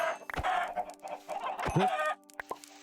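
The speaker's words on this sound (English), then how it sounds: "Die, chickens." Chickens cluck repeatedly in the video game Minecraft, a series of close, moderately loud clucks and squawks in an uneven rhythm with brief pauses, and no talking.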